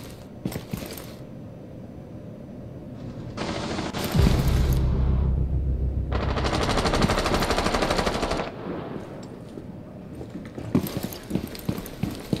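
Gunfire from Tom Clancy's Rainbow Six Siege on the Oregon map comes in rapid automatic bursts, scattered single shots early, then two long sustained volleys of dense fire and more sporadic shots near the end, with no talking.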